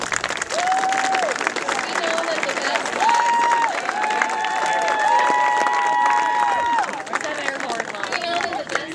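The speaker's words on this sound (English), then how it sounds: "So let's clap for our students because this is for you." Crowd clapping and cheering for students at a high school groundbreaking ceremony, sustained applause with whoops and high-pitched whistle-like cheers, a few spoken words near the end.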